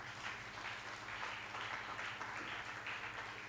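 Steady, faint applause from a church congregation, a continuous wash of clapping hands with no clear pauses, heard over a low background hum.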